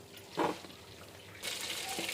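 Water is poured into a cooking pot of fish for biryani, to be set to boil. It gives a faint, soft splash and then a steady, quiet rush of pouring near the end.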